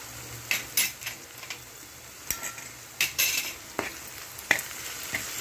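Ivy gourd (dondakai) pieces being stirred with salt in a sizzling frying pan, a utensil scraping and clinking against the pan in several short bursts over a steady soft fry.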